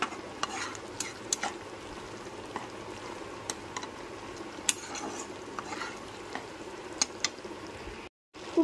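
Spices for a shahi paneer gravy being sautéed over low-to-medium flame, with a soft continuous sizzle and repeated scraping stirs of a spoon in the pan, fairly quiet and without speech.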